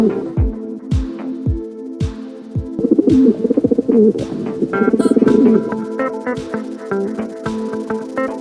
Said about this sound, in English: Pigeons live in cities, towns, and villages.